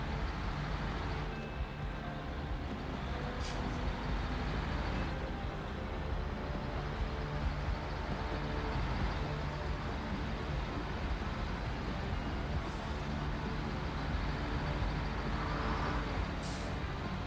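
Truck engine droning steadily as it drives along rough Michigan Black River roads in SnowRunner, a constant rumbling hum with a few brief hissing bursts, no talking.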